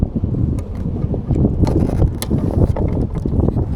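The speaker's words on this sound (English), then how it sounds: "Port motor is doing its thing" Boat's port outboard motor idling and warming up on a windy day near Lanes Island, a rough steady mechanical rumble mixed with gusty wind buffeting the microphone.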